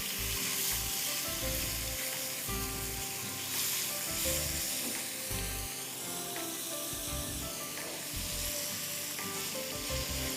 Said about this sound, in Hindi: झींगे इसी तरह आप स्टर फ्राई कर दीजिए।